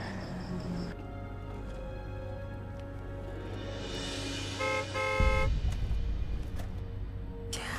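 Car horns honk repeatedly on a busy street in Indonesia, with short toots over steady traffic noise and a louder rumble near the end.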